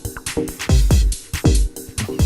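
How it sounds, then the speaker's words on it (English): Synthesized groove of kick drums and bass notes landing together with closed hi-hat ticks, a short syncopated pattern of punchy low thumps and crisp high taps, loud and close with no talk. "We copied the pattern and we put kick drums and bass lines on the same notes along with closed hi-hats."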